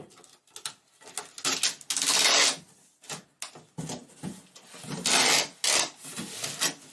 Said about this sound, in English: I'm first going to tape it in the middle